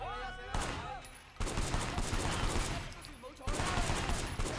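Bursts of gunfire from the Sleeping Dogs video game, several dense volleys cutting in and out with brief gaps between them, loud and sustained with no voices.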